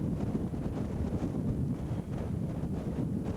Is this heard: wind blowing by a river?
yes